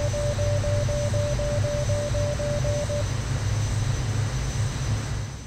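A jet fighter flies in the Energy Airforce aimStrike flight game, its engine a steady, loud drone. A beeping cockpit tone pulses over it for the first three seconds, with no talking.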